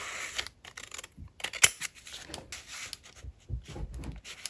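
Slightly bent scissors cutting through paper for a craft journal, close-up irregular snips and crisp rustling strokes, quiet and uneven with brief pauses between cuts.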